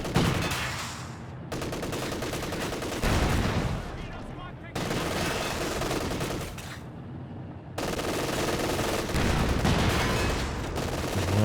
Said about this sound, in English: kind of a couple shots scattering on this side of the building